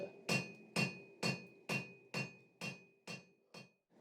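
Eight evenly spaced hammer blows ring out on a hot steel bar as its corners are knocked down into an octagon at the forge, each strike sharp and metallic with a short ringing tail, steady rhythm, close and alone.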